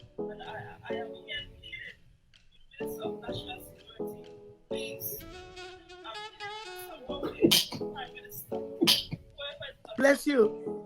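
A single sneeze bursts out amid casual talk during a live chat, a short sharp noisy blast standing out between murmured voices and soft background sounds.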